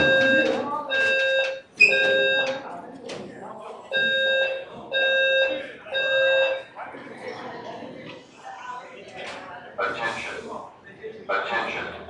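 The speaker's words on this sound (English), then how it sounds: "Fire alarm." A building fire alarm rings in a lecture room, repeating tonal blasts of about a second each in a steady on-off pattern, loud and near, with people talking under and between the tones.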